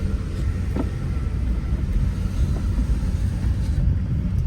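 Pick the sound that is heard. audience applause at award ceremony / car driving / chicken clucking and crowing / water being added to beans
car driving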